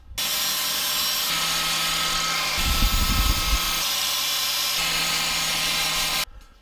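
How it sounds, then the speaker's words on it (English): A 120 grit flap wheel grinds burrs off the rough edges of cut metal frame rails for a 1/14 scale lowboy trailer, giving a steady, loud abrasive whir for about six seconds with a heavier, rougher stretch in the middle. "So I'm gonna use 120 grit flap wheel to smooth it out."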